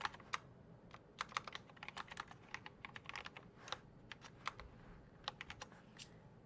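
Someone types on a computer keyboard, a quiet, close run of quick, irregular key clicks with short pauses between bursts.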